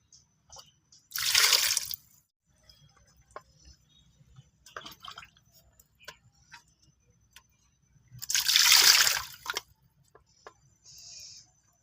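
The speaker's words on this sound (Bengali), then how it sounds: "কাতলা মাছগুলো আমি ভালো করে ধুয়ে নিলাম" Pieces of catla fish being washed in water, two bursts of pouring, splashing water separated by quiet drips, small clinks and handling sounds, close and fairly soft with no talk.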